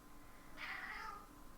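A single soft cat meow rises briefly over a quiet background, faint and fairly close.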